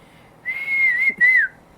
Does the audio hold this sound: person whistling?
yes